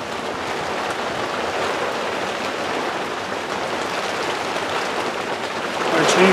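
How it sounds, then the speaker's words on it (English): Continuous wash of falling rain, fairly close and even, swelling slightly louder near the end. "And here comes the rain again."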